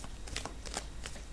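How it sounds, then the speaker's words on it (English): Tarot cards riffled and shuffled by hand in several quick papery bursts, close and fairly quiet, with no voice. "we'll get the cards shuffled out for you for this month."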